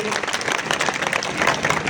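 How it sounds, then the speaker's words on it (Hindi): A crowd at a political rally in Bundelkhand claps loudly and steadily in welcome, a dense, continuous burst of applause with a faint hint of voices underneath. "एक बार जोरदार ताली बजाकर स्वागत करें"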